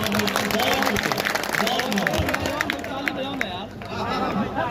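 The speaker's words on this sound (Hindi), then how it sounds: "अगर अच्छा लग रहा है आप सबको तो एक बार तालियां बजा दें।" An audience at a shayari poetry recitation breaks into steady applause, a dense wash of clapping that runs throughout, mixed with crowd chatter and murmur.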